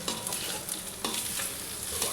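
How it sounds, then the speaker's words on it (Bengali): Rice fries in a pan with a dense, even sizzle and hiss, broken by a couple of clear scraping stirs. It is close and steady, with no voices. "চালটা ভালো করে ভাজা হয়ে গেছে"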